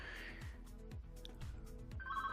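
A phone rings in a room during a live creative stream, a warbling electronic ringtone pulsing in bursts at the start and again near the end, with low background rumble and movement between.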